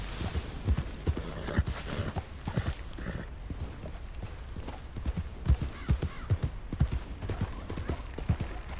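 Horse hooves in Red Dead Redemption 2 clip-clop in a steady, brisk rhythm, close and continuous throughout, with no talking over them.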